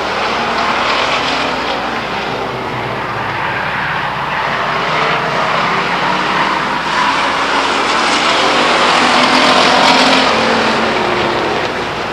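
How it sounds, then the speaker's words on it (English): Race cars roar around the oval at Stockton 99 Speedway in 2001, a loud, sustained engine drone that rises slightly as the pack passes, with no talk over it. "Charlie Clausen makes the pass down the back chute going into turn 3"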